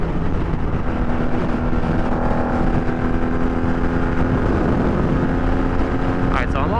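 Honda CB750 motorcycle engine buzzing steadily at about 85 mph and 5,500 rpm on a highway, a continuous close drone mixed with rushing wind noise, with someone talking over it.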